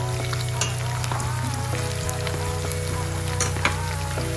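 Onion frying in sunflower oil in a pan, a dense steady sizzle with scattered crackles and pops, close and continuous with no talk.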